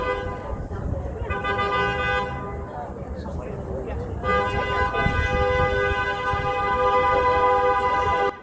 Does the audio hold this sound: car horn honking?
yes